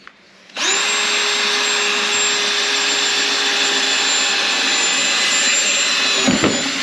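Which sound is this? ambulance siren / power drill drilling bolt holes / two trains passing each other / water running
power drill drilling bolt holes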